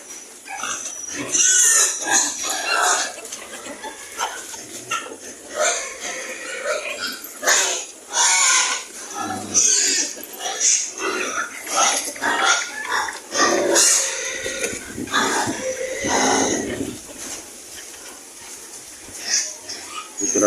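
Native pigs on a farm, grunting and oinking in repeated close bursts, with people talking in the background.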